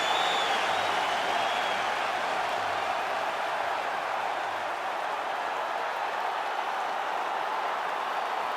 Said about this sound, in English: Khamzat Chimaev, ready to make a statement in front of this capacity crowd here tonight